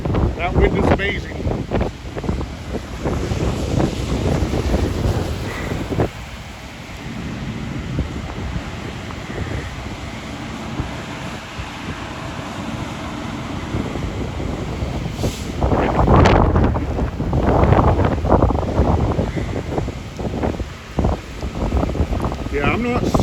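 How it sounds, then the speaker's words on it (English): Strong wind gusting past outdoors in the rain beside an apartment, a loud continuous roar that buffets the microphone, rising and falling, with people talking over it. "that wind is amazing"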